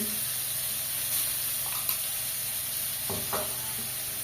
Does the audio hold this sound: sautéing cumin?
yes